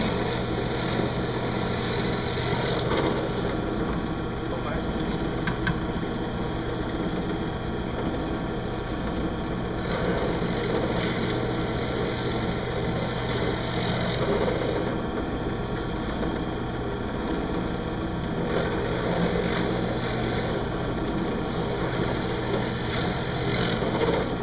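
A jigsaw saws through wood for a homemade truncheon, a loud sustained buzzing rasp running nearly unbroken from start to finish, with brief pauses and shifts in pitch as the cut proceeds, and no talk.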